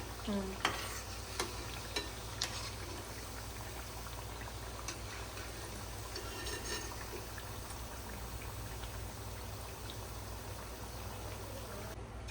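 Chicken garelu, savory fritters, deep-frying in hot oil: a steady, soft, bubbling sizzle throughout with a few light utensil clicks near the start and no talking.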